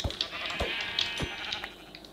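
Sheep in the video game Minecraft bleat in short nasal bursts, several quick calls in a row, close and clear against a quiet background.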